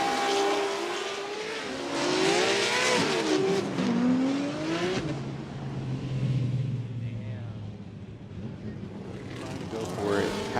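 A Formula Drift car at the Orlando round practice session revs hard while its tires squeal, a roaring engine pitching up and down with a sustained screech, heard from trackside, then easing to a lower drone.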